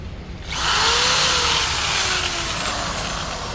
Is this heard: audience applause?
no